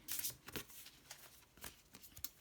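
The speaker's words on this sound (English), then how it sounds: "I'm going to shuffle some cards and just pull them" A deck of oracle cards gets shuffled by hand in a run of soft riffling bursts and slaps, several quick flutters spread irregularly across a few seconds, heard close and quiet with no talking.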